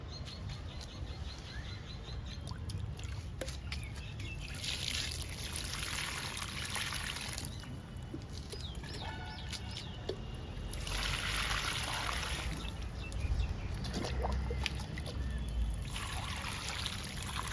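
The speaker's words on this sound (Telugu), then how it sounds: "ఈ కనకాంబరం మొక్కలన్నిటికీ వాటర్ ఇద్దాము" Water poured from a can or mug over kanakambaram (crossandra) plants set in soil-filled tubs outdoors, a steady splashing trickle running in several bursts across the stretch with soft background noise.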